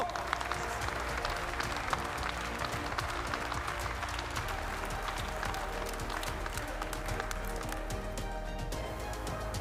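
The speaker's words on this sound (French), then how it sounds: "on te doit un tonnerre d'applaudissements pour ton travail" A large audience applauds at a Prim'Holstein dairy cattle show judging, dense sustained clapping filling the hall steadily throughout, loud and close.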